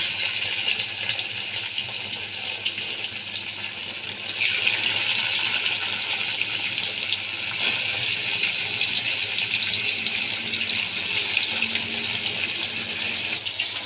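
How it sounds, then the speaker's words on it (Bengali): Bhola fish frying in hot oil with mustard, a steady dense crackle and spatter that grows slightly louder partway through, with faint rattling clicks scattered throughout and no voices. "তেলের মধ্যে আমি মাছগুলো দিয়ে দিলাম। মাছগুলো আমি এবার লাল লাল করে ভেজে নেব।"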